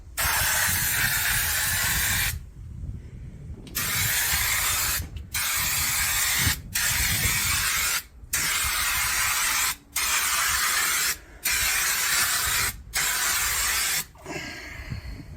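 Repeated bursts of spray hiss from a partly blocked nozzle during bodywork on a 1975 Daihatsu F10, each loud blast lasting about a second or two and separated by short gaps, about nine in all.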